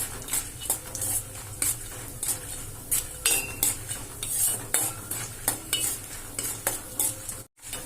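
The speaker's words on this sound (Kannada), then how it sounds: "ಸ್ವಲ್ಪ ಶೇಂಗಾ ಕೆಂಪಾಗೋವರೆಗೂ ಏನಿದೆ ಕೈ ಆಡಿಸ್ಕೊಳ್ಳೋಣ" Peanuts, chana dal and urad dal roast in a pan while a metal spoon stirs them, giving repeated scraping clinks over a soft sizzle in an uneven, busy rhythm.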